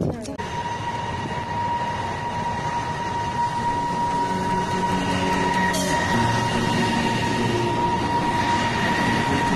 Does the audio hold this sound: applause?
no